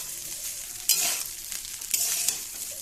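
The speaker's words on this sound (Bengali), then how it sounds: "হালকা হালকা ভাবে নাড়িয়ে দেবো একটু" Fried rice sizzles over a lowered gas flame while being gently stirred, probably in a wok, at a picnic. A steady hiss runs throughout, with a few louder scraping turns of the spoon.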